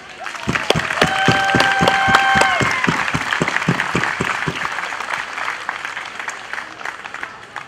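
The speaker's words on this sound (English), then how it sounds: "Please join me in another round of applause for our Hillsborough veterans" An outdoor Memorial Day crowd at a garden of honor applauds for veterans, the clapping broad and sustained, with several individual hand claps standing out early and a faint tonal ring at the start.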